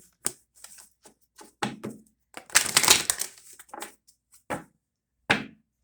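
Quick bursts of riffling and snapping card sounds, several shuffles in a row separated by short pauses, close and crisp.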